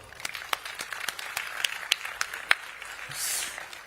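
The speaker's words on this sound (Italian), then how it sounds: "facciamo un grosso applauso" An audience at a comedy show during the SSC Napoli training camp in Dimaro claps in an even, steady rhythm, with sharp distinct claps over light background noise.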